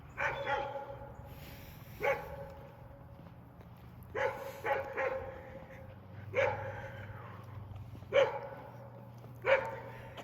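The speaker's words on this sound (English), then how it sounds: "I'm being barked at by one of the dogs over there on my left side" Dogs bark from a nearby house off to one side, sharp repeated barks in bursts about every two seconds over a low steady outdoor hum.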